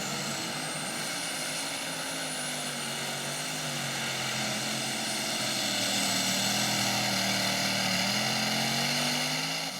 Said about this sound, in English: you could hear it tug that motor down